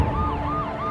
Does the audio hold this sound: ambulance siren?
yes